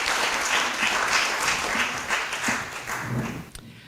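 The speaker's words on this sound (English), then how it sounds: "our fabulous respondents and John and Sipho a round of applause?" An academic lecture audience claps for panel respondents after a talk on art, soul and artificial intelligence; the applause is full and close, then thins out and fades near the end.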